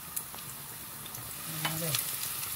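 Chopped garlic sizzling in hot oil in a pan while cooking a dressing for lentils, a steady close crackle with a brief stirring scrape partway through and no talk.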